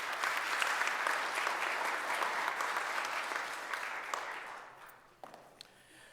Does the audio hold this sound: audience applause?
yes